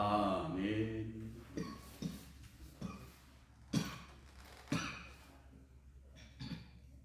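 A pastor coughs several times in a row during a church broadcast. The coughs come as separate loud bursts after a short vocal sound at the start.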